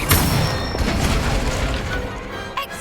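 Incendio spell in Hogwarts Legacy bursting out as a loud, fiery roaring blast that fills the whole moment and fades slightly at the end, with no voice over it.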